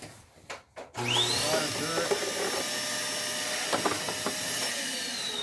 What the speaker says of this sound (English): So get your vacuum, turn it on, and suck out all that garbage.